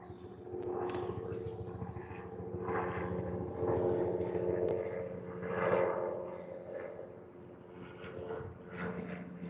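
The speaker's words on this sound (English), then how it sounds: "That is a helicopter." A helicopter passing in the distance, a low steady rotor drone with a rumbling hum that swells and fades over several seconds, moderately faint with no talk.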